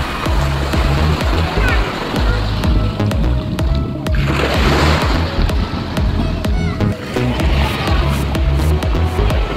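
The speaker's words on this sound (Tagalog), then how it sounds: "Dagat." Sea waves at a beach in La Union wash and slosh loudly and continuously, with one surge swelling midway, while people talk and exclaim nearby over the surf.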